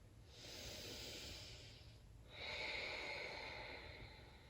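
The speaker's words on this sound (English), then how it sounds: "We'll just take a few breaths here." Slow, deep breaths during a gentle hip-focused yoga class: a long, airy inhale followed by a brief pause and a stronger, hissing exhale, close and soft with no talk.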